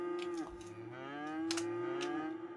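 A cow in the city-building game Cities Skylines moos in a long drawn-out call with a strong steady tone, joined by a few overlapping moos, close and clear with no talking.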